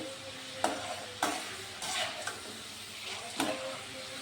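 Homemade chanachur pieces frying in hot oil, a steady soft sizzle with a few sharper stirring clatters of a spoon against the pan, fairly quiet and close, no voices.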